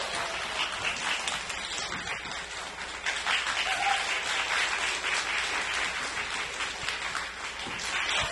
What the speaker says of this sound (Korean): 큰 박수 부탁드리겠습니다, 여러분.